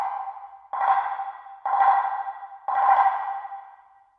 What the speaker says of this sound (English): The soft mallet we heard now is a yarn mallet